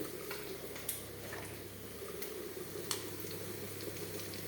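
Curry leaves dropped into a pan of freshly fried fish give a soft, steady sizzle with scattered faint crackles, quiet and close, with no talking.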